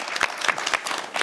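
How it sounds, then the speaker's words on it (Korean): Brief applause at a Korean debate forum, with a handful of sharp claps landing in a quick, steady rhythm at moderate volume. "박수 쳐도 되지 않겠어요?"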